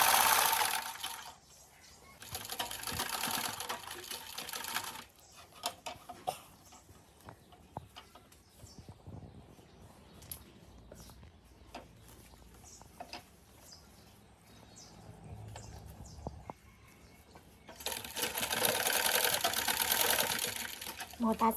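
A sewing machine stitches a small fabric bag in bursts, its fast rattling whir starting and stopping between stretches of quiet handling, with someone talking in between.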